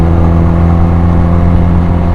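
A Benelli Patagonian Eagle 250cc touring motorcycle runs at full throttle, its engine giving off a loud, steady droning roar close by with no speech.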